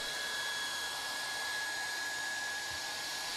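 Hot air welding gun blowing while vinyl rod is fed through a speed nozzle down a miter corner of vinyl flooring: a steady, even hiss and whir with no change throughout, heard alone.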